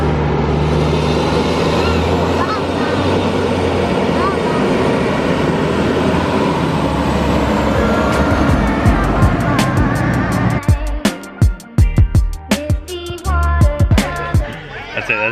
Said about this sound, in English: We have a fire truck.